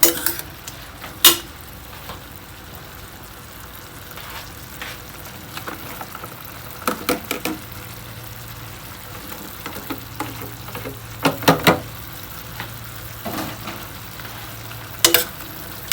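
White and red onions are stir-fried in a pan for a stuffed omelette filling, producing a continuous quiet sizzle with intermittent sharp spatula scrapes and clinks against the pan, close by and without voices.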